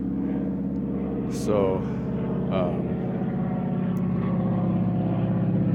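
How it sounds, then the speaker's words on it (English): A steady, distant drone from an airplane passing overhead above the La Cloche Silhouette trail in Killarney Provincial Park. It holds constant beneath people's voices. "oh, there's a plane going overhead here somewhere"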